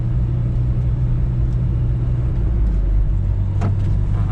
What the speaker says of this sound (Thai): นี่อย่างตอนนี้ก็พันห้าร้อยรอบนะครับ มันจะ ยึกยึกยึกยึกยึกยึกอย่างนี้นะฮะ